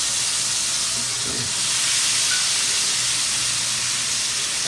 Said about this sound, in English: then we're going to reverse sear these steaks